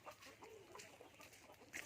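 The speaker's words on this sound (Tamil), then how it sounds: "சிறிய கோழி குஞ்சுகள் பார்த்திங்கன்னா இதுக்குள்ளே தான் இருக்குது" Faint clucking and soft peeping from small country chicken chicks, quiet and distant, with no talking.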